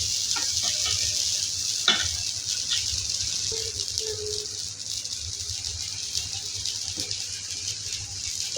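Water spread across a hot dosa pan sizzles steadily and close, a bright continuous hiss with a few faint clinks and scrapes, no talking.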